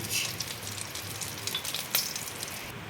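Oil sizzling and crackling steadily in a pan while prawn curry is started, a close, continuous hiss with a few sharper pops and spits, no voices.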